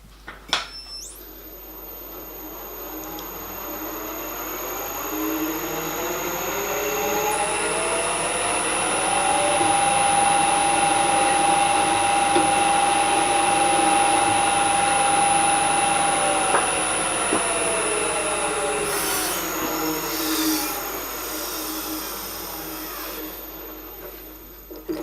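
A drill whines steadily as it bores a 2.7 mm hole into metal for a taper pin on a milling machine part, a sustained high-pitched tone with a motor hum that rises and then winds down.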